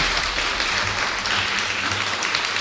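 An audience in a hall at the PodRennes 2025 podcast event applauds in a steady wash of clapping, used as an applause vote, sustained at moderate volume throughout.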